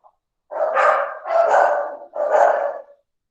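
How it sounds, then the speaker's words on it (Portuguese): Neighbours' dogs bark from nearby, three loud, drawn-out barking bursts in steady succession with short gaps between them, heard alone. "Olha os cachorros aqui vizinhos, gente."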